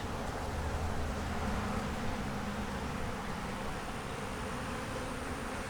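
A honeybee colony with its queen, fresh eggs and larvae in the brood comb hums in a steady, close, dense drone that stays loud and even throughout, with no voices.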